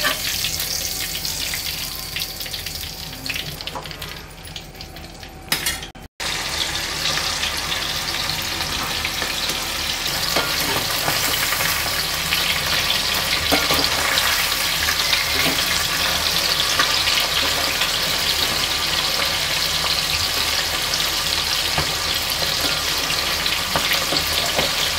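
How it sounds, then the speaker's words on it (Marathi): Prawns fry in a pan with a loud, dense crackle that runs throughout. A sharp click near six seconds cuts it briefly before the hiss resumes evenly, with no one talking. "अशी तळायची, फ्राय करून घ्यायची। थोडं थोडं हलवत राहायचं।"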